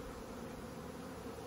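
Honeybees at a nucleus hive buzz in a continuous, low droning hum, faint but steady, with no voices heard.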